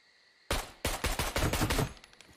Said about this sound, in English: I'm going to shoot a couple rounds.